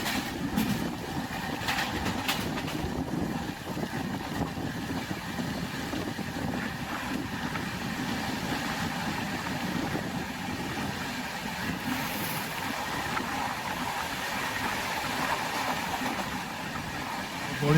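The Howrah–Mumbai CSMT express running at night through Maharashtra, with a steady, continuous rumble of the moving train and wind rushing past the microphone, and no talk.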